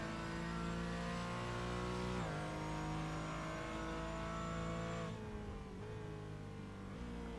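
A Porsche Cayman on the Zolder race track holds a loud, steady engine note that rises in pitch, drops briefly at gear changes and climbs again, continuous and close.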